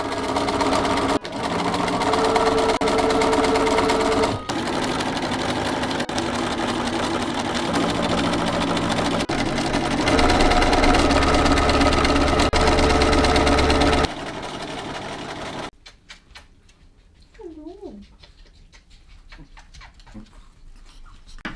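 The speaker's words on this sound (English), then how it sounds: "So it's going to be a lot of long vertical stitches." Sewing machine running long vertical princess seams on flowing robe fabric, a loud steady mechanical whir over many seconds with a few pauses, then stopping before faint animal calls and background noise.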